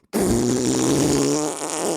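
A loud, sustained fart sound effect kicks in after a brief pause and buzzes on continuously for nearly two seconds, close and unbroken, with no talk over it.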